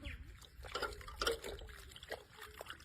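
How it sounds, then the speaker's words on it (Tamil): A cloth rubbed with watermelon is swished and rinsed in water, giving soft, uneven sloshing and dripping splashes at close range, fairly quiet throughout. "இது என்ன பண்ணணும்னா தண்ணியில அலசணும்."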